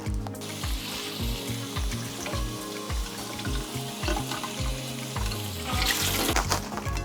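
Mushrooms being washed in a kitchen sink under running water, a close, steady splashing stream with rhythmic sloshing as the food is rinsed and turned, growing louder near the end, with no one speaking.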